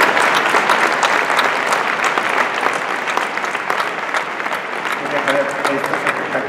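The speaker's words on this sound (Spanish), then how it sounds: "me gustaría que le dierais un aplauso tremendo a Jaime por enseñar todo esto" Sustained audience applause at a Salesforce Essentials 2017 conference in Spain, a dense steady clapping from a large crowd that holds evenly throughout without talk.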